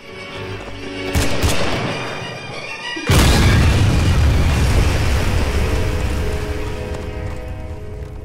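A loud, dense blast of gunfire erupts and roars on continuously, heavy and booming, with no speech over it.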